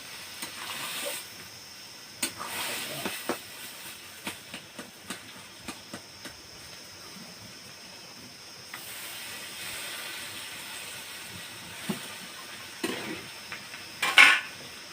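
A spatula gently stirs potatoes through a pan of leafy greens curry. Quiet sizzling hiss runs throughout, broken by scattered clinks and scrapes against the pan, with a sharper clatter near the end.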